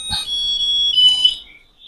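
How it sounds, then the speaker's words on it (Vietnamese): A Japanese electric rice cooker gives a loud, close beep followed by a steady high chime melody that holds its tone for over a second and then fades, with no voices. "Chuông còi nhạc dạo đầy đủ cho các bác luôn."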